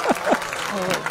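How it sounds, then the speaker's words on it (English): Spectators clap at a Seminole State College vs Western Oklahoma State College baseball game, a short, steady patter of applause mixed with voices talking over it. "so hey, we can clap."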